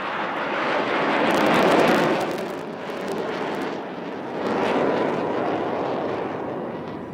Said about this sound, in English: இப்பொழுது உங்கள் முன்னால் நமது நாட்டின் பெருமை தேஜஸ் உங்கள் முன்னால் வெர்டிகல் சார்லி செய்ய உள்ளார்